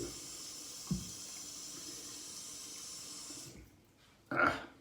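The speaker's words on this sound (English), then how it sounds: "let me rinse out the bowl" A shaving bowl is rinsed under a running tap: a steady faint water stream that stops, then a short splash and rush of water near the end.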